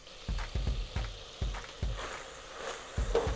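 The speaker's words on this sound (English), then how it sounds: "So we're going to let the bacon sizzle for a bit." Bacon sizzling in butter in a pan, a steady crackling fry punctuated by several sharp low thumps and clatters, close and moderately loud with no talking.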